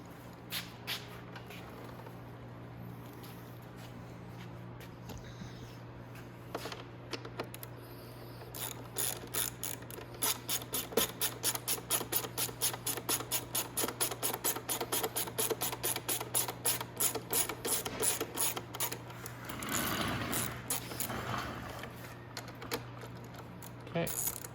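Ratchet wrench loosening bolts on the right combination switch housing of a Venom X20 or E-Vader motorcycle, a rapid series of close, sharp clicking pawl strokes in bursts, with a brief rustling scrape near the end.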